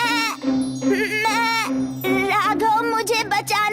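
A goat bleats loudly and close by, giving several wavering, strongly pitched cries in quick succession with short gaps between them.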